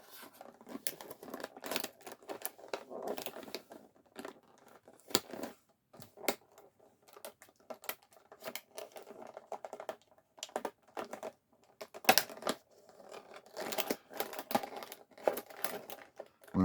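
Toy packaging for a 2021 Masters of the Universe Beast Man figure being sliced and torn open up close: a quiet, busy stream of scratchy cutting, crinkling plastic and ripping card with irregular small bursts.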